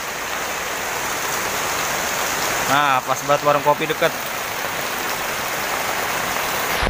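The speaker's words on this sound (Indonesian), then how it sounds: "Hujannya." Steady rain falls on an outdoor open-air film screening at a celebration venue, a continuous broadband hiss lasting the whole clip, with someone speaking briefly over it in the middle.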